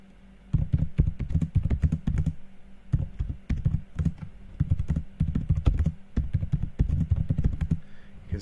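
Typing on a computer keyboard in bursts of rapid, close key taps with brief pauses between runs, clear and moderately loud with no talking.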